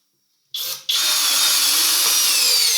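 Budget cordless drill spinning in first gear on an old battery, starting abruptly after silence with a short stutter, then a steady, loud, high whine held to the end.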